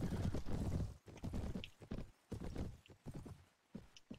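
Cavalry horses in a Game of Thrones mod battle game give off loud, close clip-clop hoofbeats in uneven bursts, with a brief whinny among them.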